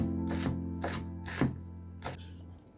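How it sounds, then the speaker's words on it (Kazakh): Herb stems being finely chopped with a knife for a Kazakh rice soup, giving four separate crisp board strikes spaced about half a second apart, close and clear with no talk. "Аскөктердің осындай сабақтарының турап сорпаға салып жіберсеңіздер болады. Майдалап турап."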